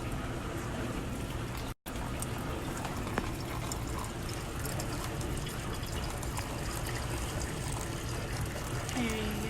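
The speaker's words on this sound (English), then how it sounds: "now we are boiling water, and you can go ahead and pour" Hot water poured in a circular motion over coffee grounds in a Melior pour-over coffee maker, a steady close trickle and splash running throughout.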